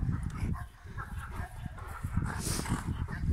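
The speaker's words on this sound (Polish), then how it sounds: "Pieski!" Newfoundland dogs barking and whimpering close by, with short yips and bow-wows scattered through a few seconds of lively, continuous canine noise.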